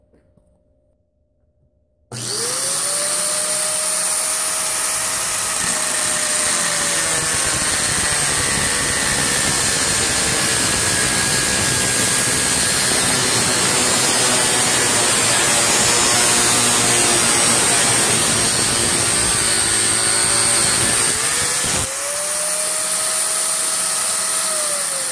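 Angle grinder mounted in a chop saw stand starts with a rising whine and cuts for about twenty seconds in a loud, steady screaming drone, then briefly dips and spins down before revving up again near the end.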